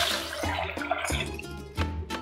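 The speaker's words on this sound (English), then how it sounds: "now we're gonna add about 1 quart of beef broth" Beef broth, about a quart, pours and splashes into a pot of chili, a short burst of gurgling liquid with a few uneven surges and no voices.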